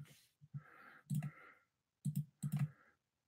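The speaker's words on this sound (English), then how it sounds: "I'm clicking it and nothing's happening." Buttons on a piece of live-streaming equipment are clicked in a few short, close bursts with quiet gaps between them, and no one speaks.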